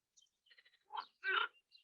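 Frogs croaking in a natural outdoor setting, a few faint, short croaks and chirps scattered over a quiet background, with two louder calls near the middle.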